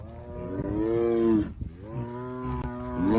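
A tiger gives long, drawn-out moo-like calls that imitate a cow, two sustained bellowing calls separated by a brief pause, loud and close with no talking.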